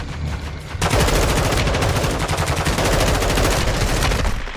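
Dense, continuous automatic gunfire in Call of Duty Warzone 2.0, bursting in after a quieter opening and rattling loud and close for several seconds before easing slightly at the end.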